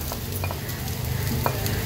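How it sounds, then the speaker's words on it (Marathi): Cooked mutton kheema stirred into masala frying in oil in a pan: a steady close sizzle with scraping stir strokes and a few sharper clicks, no talking. "आता हा जो खिमा आपण शिजवून घेतलेला आहे तो ऍड करूया।"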